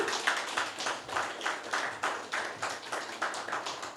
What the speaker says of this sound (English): Let's give Miguel a round of applause.